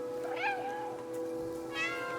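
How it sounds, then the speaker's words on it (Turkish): A cat in Stray gives two clear meows, one early and one near the end, each a rising then falling cry heard close and alone over a quiet steady hum. "Ha miyavlıyormuşuz ya lan."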